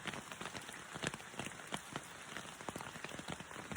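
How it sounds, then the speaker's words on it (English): Rain patters steadily on a tent at night while backpacking in the Adirondack High Peaks, soft close drops ticking irregularly against the fabric over a constant hiss, no voices. "Now I'm literally just listening to the rain."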